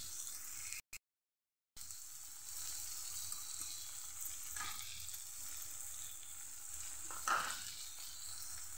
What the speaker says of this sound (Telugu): సో మ్యాగీ మసాలా వేసేస్తున్నాం కదండి, దీన్ని కొంచెం బాగా ఫ్రై చేద్దాం